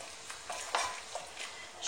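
Ginger, garlic powder, paprika, chili and salt sizzling in a pan while being stirred: a soft, close frying hiss with several brief scraping strokes, no talk.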